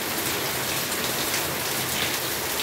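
Steady rain falling on a surface, a continuous close hiss of drops with no thunder and no voices.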